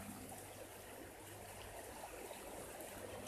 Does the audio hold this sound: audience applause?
no